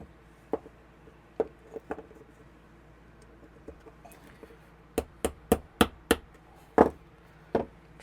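A hammer taps pins into a knife handle set over a hole drilled in a workbench, giving sharp isolated knocks: a few spaced strikes, then a quicker run of six or seven taps close up.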